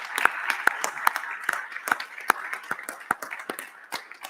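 Scattered applause from an audience at the ISPAD dedoc° diabetes symposium in 2022, with individual claps standing out sharply against a room murmur as the clapping thins.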